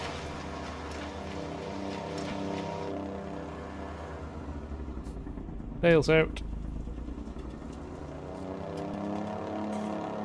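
Tractor engine in the farming game Farming Simulator 19, a steady low droning rumble running throughout, with a brief sharp electronic chirp midway and someone talking over it.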